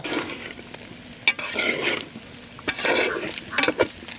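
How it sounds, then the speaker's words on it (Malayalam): Chicken frying in coconut oil, stirred now and then, with a crackling sizzle and sharp utensil scrapes and knocks in uneven bursts, close and clear, no talking. "അതുവരെ നമുക്കിതിങ്ങനെ ഇടയ്ക്കിടയ്ക്ക് ഇളക്കി കൊടുത്തും ആക്കി ഇങ്ങനെ നിൽക്കട്ടോ"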